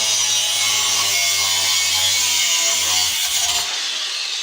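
A cutting disc grinds through metal stock being shaped into a spear, a close, loud, steady high-pitched whine with a low motor hum underneath that drops away near the end, with no one talking.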